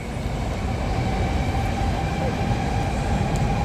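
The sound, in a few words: Shinkansen bullet train passing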